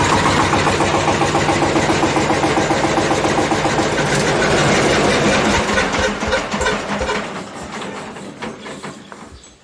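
A vehicle engine started after two weeks standing unused settles into a loud, steady idle close by, its rumble holding for several seconds before easing off and thinning out toward the end.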